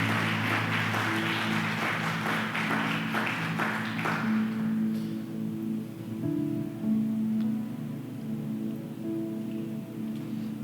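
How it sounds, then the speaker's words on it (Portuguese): A church congregation claps together in a dense, pattering wave that fades out after a few seconds, leaving soft organ-like sustained tones underneath. "Aplauda ao Senhor."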